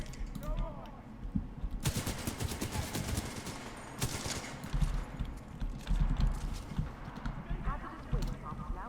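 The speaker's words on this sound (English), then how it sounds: "I like this tiny little machine gun, I really do." Rapid bursts from a small machine gun in the Titanfall 2 campaign crackle in short, repeated volleys, moderately loud, over background game ambience, with a voice talking over parts of it.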